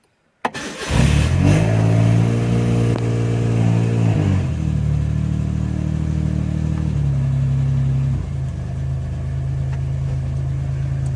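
A 1985 Suzuki Mighty Boy with its F8B engine cranks and fires, then revs and settles into a steady, loud nearby run with stepped changes in pitch as the throttle eases off.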